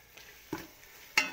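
Ginger garlic paste frying in a pan for prawn biryani gives a faint sizzle, marked by three short scrapes of stirring, the last one the sharpest.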